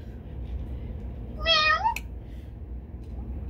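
A single drawn-out meow voiced by a person imitating a cat, rising then falling, heard over a low steady background hum.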